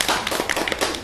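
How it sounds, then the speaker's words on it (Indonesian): Quick burst of clapping for a wheelchair racing athlete during a talk about Paralympic sport, a brief flurry of close hand claps lasting about a second. "Oke, tepuk tangan buat."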